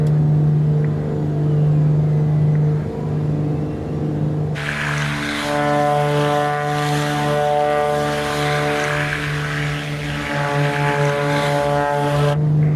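Beechcraft Duke B60 twin propeller plane taking off in Microsoft Flight Simulator: a steady engine drone, then a sudden louder burst of buzzing propeller roar partway through that holds strong before cutting back at the end.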